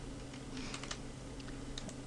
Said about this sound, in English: press delete on your keyboard